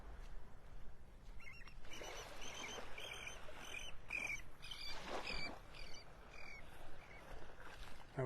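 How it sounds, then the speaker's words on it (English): Willet screeching on a Gulf beach at Pelican Bay in North Naples, Florida, with the tide coming in, several harsh, rapid bird calls repeated in bursts over a soft steady background of surf and wind. "That was a willet bird screeching."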